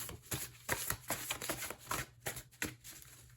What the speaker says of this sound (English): I'm going to give it one more good shuffle here, and then I will just cut the deck